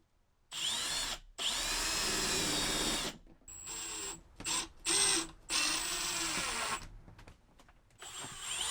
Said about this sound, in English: we're ready to screw it into our furring strips in the ceiling